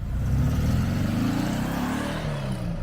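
A small, cheap air compressor tucked away in a loft runs with a steady, droning motor hum. Its low rumble holds constant and fairly loud throughout, with no voices over it.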